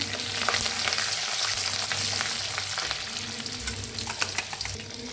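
Chana dal, urad dal and curry leaves frying in hot oil, a dense crackling sizzle with steady stirring, close and loud throughout with no talk.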